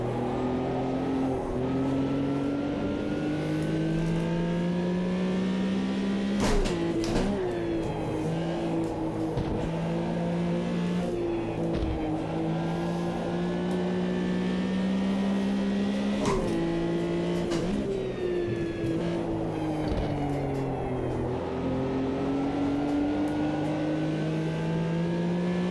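Engine of a 1974 Porsche 911 racing at Kyalami in the Automobilista 2 racing game, a continuous loud flat-six drone rising and falling through repeated gear changes and revs, with brief sharp shift blips.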